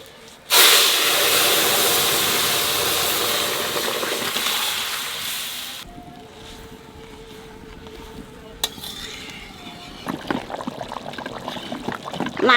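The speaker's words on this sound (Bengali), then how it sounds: "তেলের উপর দিয়ে দেবো জিরে তেজপাতা।" Cumin seeds and bay leaves hit hot oil with a sudden loud hissing sizzle that fades over several seconds, followed by quieter clinks and soft bubbling.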